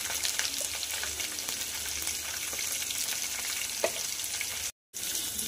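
Chopped onions hiss and crackle in a hot pan for a dried prawn curry, a steady close sizzle with a brief scrape of stirring and a short gap near the end, no voices.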